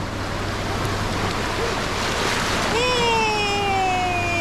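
Sea waves washing onto the beach at Arambol, Goa: a steady broad rush of surf with wind, close and continuous, with a high whistling tone and faint voices near the end.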